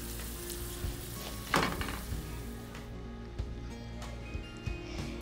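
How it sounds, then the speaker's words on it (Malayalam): Cashew nuts and raisins frying in a pan for fruit salad payasam, giving a steady soft sizzle with occasional stirring clinks, fairly quiet and close. "ഇനി ആ സമയം നമുക്ക് കുറച്ച് കാഷ്യൂനട്ടും റൈസിൻസും കൂടി ഒന്ന് ഫ്രൈ ചെയ്തെടുക്കണം."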